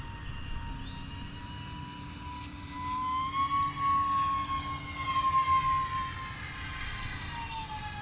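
An E-Flite Micro B-2 Spirit model jet with twin 30mm electric ducted fans flies past. Its steady high-pitched whine rises and swells as it passes near, then fades slightly, with no talk.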